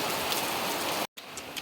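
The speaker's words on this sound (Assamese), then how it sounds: "আপোনালোকে চাব পাৰে বতৰ কেনে হৈ গৈছে বৰষুণ" Steady rain pours down in a continuous dense hiss, briefly cut off for a moment before resuming, with no voices over it.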